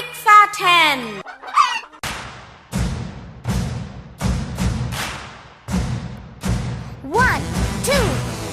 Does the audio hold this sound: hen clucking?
yes